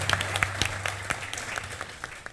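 A studio audience on The Great Indian Kapil Show claps in a moderate, fairly distant ripple with scattered individual hand claps standing out throughout.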